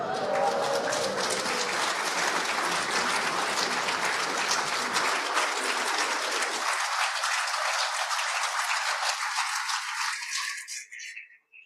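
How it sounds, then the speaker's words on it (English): A congregation at a Shabbat morning service applauds for a 102nd birthday. The dense, sustained clapping fills the room and then thins and fades out near the end. "The applause is wonderful and well merited."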